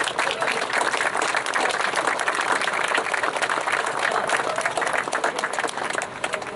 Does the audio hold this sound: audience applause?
yes